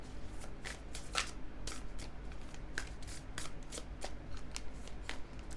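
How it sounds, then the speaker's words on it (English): Color Goddess Casting Cards, an oracle deck, are shuffled by hand close up, giving a continuous papery riffle with repeated crisp snaps of the cards and no talking. "Let's draw a card from my deck, Color Goddess Casting Cards,"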